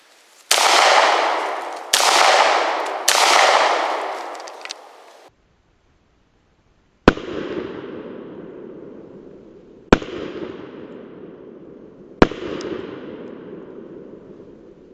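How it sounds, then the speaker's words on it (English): Handgun shots fired repeatedly into the same spot on a concrete block outdoors: three sharp reports with long decaying echoes rolling off, following a burst of dense, noisy rumble, loud and without speech. "you gotta shoot the same spot over and over with a handgun"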